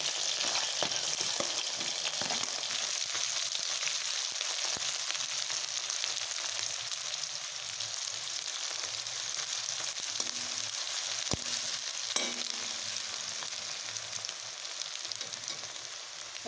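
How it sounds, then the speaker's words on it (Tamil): Onions sizzle and sauté steadily in a pan with curry leaves and green chillies, a continuous close frying hiss with a few faint clicks of stirring throughout, no talk. "இது நல்லா வதங்கட்டும். வெங்காயம் போட்டோம்."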